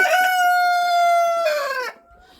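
A rooster among chickens waiting to be fed lets out one long, loud, close crow that falls away at the end, then goes quiet.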